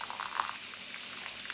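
Boiling water is poured in a small amount while cooking bacon and braised lettuce, a faint, soft bubbling trickle with light splashes, heard close and alone.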